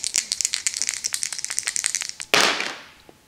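Dice rattle in a quick clatter of many sharp clicks during a board game, then a sudden louder burst of scattering as they tumble and settle, close and loud.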